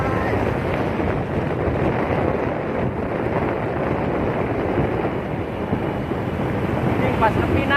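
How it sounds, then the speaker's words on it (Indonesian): Fast-flowing water rushing in a dense, continuous roar close by, loud and unbroken, with wind buffeting the microphone. "Kencang banget ini air guys."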